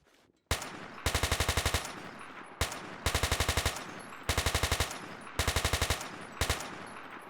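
SA-80 rifle from the Battlefield 2 AIX mod fires in loud, rapid automatic bursts, five or six in a row with short pauses between them, close and alone with no talk.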